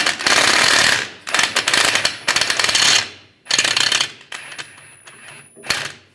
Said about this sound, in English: Using an 18mm socket, we'll take this nut off.